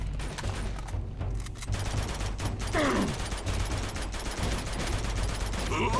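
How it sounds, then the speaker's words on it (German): Rapid bursts of gunfire in Uncharted 2: Among Thieves crackle continuously over a steady rumble, with a brief descending whoosh midway, loud and close. "Schieß jetzt so lange drauf, bis ich keine Schüsse mehr habe"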